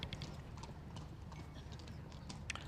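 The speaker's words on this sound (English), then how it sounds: "He just broke into canter almost on the run back down the trot strip" A horse trots along a trot strip at outdoor horse trials, its hooves giving quick, even clip-clop beats at a moderate distance over a steady background murmur.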